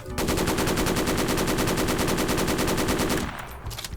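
Rapid automatic gunfire in the Roblox game Military Tycoon rattles in a steady, unbroken burst for about three seconds, then cuts off, leaving a fading echo.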